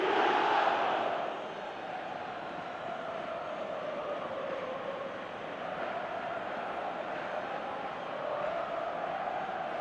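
Stadium crowd in the eFootball video game, a sustained roar of chanting and cheering that swells at the start, then drones on steadily at a moderate distance.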